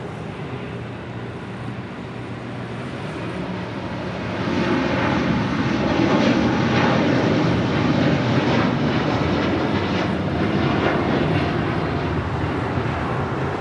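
A Boeing 787 Dreamliner rolls down the runway at Los Angeles International Airport, its jet engine roar swelling up partway through and then holding loud and steady.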